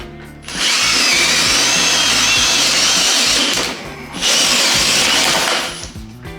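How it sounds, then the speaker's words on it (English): Power drill boring holes for recessed ceiling lights, two loud sustained bursts of whirring and grinding, the second starting after a brief dip, close by with no talk. "we got the holes drilled"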